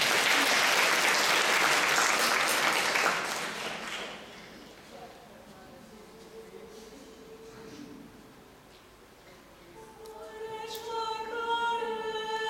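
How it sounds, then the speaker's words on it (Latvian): A concert audience at a minority folk ensembles' autumn show in Riga bursts into loud, dense applause that fades after a few seconds into quieter sound, followed by a tonal musical passage building up. "Ar jūsu aplausiem!"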